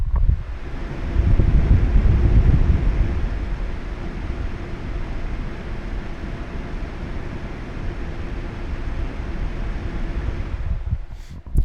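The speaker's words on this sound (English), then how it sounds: "you'll find yourself with much more fan noise than you ever would have expected" A graphics card's vapor chamber cooler runs its fans at 2900 RPM, producing a loud, steady broadband whoosh like rushing air that holds close and constant throughout, with no voices.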